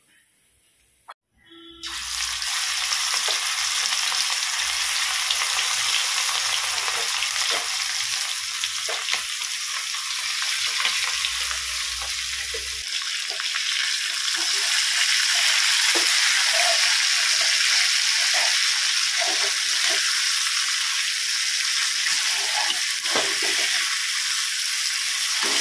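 Fish fries in oil in a pan at a home kitchen, a steady, loud sizzle that runs unbroken for about twenty-five seconds after a brief quiet start, with small crackles and pops throughout and no talking.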